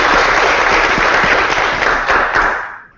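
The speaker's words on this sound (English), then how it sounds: "Just give a round of applause." Loud, close applause from a meeting audience at a student government session, dense and continuous before tapering off sharply at the end.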